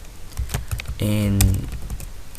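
Irregular clicks of typing on a computer keyboard, close up, with a voice speaking briefly partway through.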